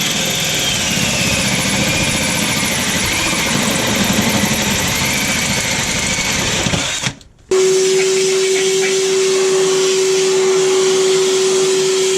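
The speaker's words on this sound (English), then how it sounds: "Never did I imagine I'd be randomly drilling holes in a car." A loud, continuous motor whine drones on, cuts out briefly, then resumes as a steady buzzing hum, a power drill running close by, drilling holes in a car body.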